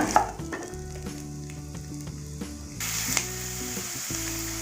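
Onion frying in hot oil in a pan, a steady close sizzle with light clatter running the whole time, with a tonal hum underneath that shifts partway through.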